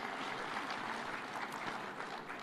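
A continuous, even patter of crowd clapping at a political gathering in Homa Bay, Kenya, moderately distant and steady for its short length, with no voices on top.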